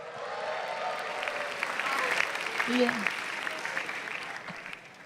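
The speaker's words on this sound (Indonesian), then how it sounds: "Tepuk tangan dulu untuk Awkarin" The audience at a stand-up comedy show claps in steady applause, swelling briefly midway, while a voice speaks over it.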